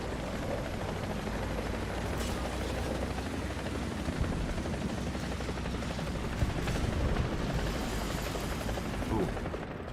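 Aircraft drone overhead in War Thunder as a steady, dense roar with a few faint impacts, while a tank battle goes on beneath the noise.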